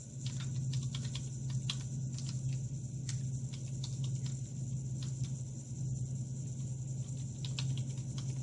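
Fingers type on a computer keyboard during a class lecture, sounding as faint, irregular key clicks over a steady low room hum, with no one speaking.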